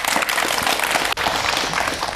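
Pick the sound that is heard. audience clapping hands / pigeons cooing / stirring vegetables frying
audience clapping hands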